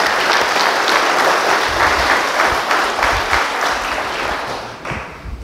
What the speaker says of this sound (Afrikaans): Kom ons geef hulle weer lekker hande klap.